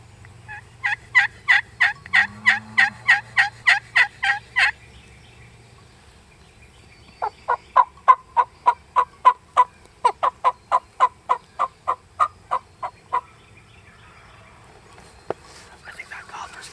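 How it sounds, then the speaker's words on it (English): A wild turkey gobbler gobbles in two long rattling bursts of rapid, evenly spaced notes in Tennessee woods, loud and fairly close, with a brief whisper between them. "I think that gobbler's gonna come right up this hill and catch us, right?"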